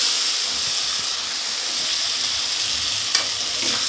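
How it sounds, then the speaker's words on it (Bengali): Fried potatoes and Malabar spinach stems sizzle in a cooked spice paste, producing a steady, dense, close frying hiss with light stirring clatter. "এবার দিয়ে দেব আলু আর পুঁই ডাঁটা ভেজে রাখা"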